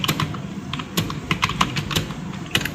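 Someone types a sample line into WordPad on a computer keyboard: a quick, uneven run of crisp key clicks, close and clear, with no talking.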